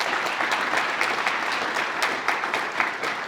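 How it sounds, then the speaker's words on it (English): A crowd at a university commencement applauds for a board chair, a steady, close wash of clapping hands lasting about three seconds at even loudness. "Let's give Shelly a round of applause."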